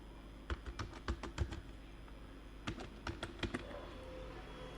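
Keys clatter on a computer keyboard as a name is typed, two short quick bursts of crisp clicks separated by a pause, close but quiet, no talking.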